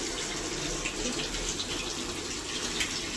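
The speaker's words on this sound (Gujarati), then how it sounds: "નળ ચાલુ કરી દઉં" Water running from a household tap into a sink or bucket, a steady continuous splashing rush at moderate volume that holds without a break throughout.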